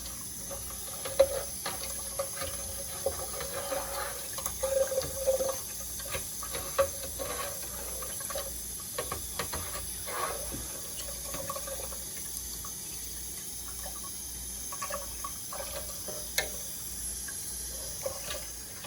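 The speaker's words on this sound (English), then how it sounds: "I'm adding cold water." Cold water running from a sink tap into a container, a soft continuous trickle with occasional clinks and splashes, quiet and without talk.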